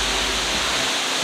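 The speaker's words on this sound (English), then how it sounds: "there's not one but a second waterfall" A waterfall in Ubud, Bali roars loud and close, a dense, steady rush of falling water filling the whole clip.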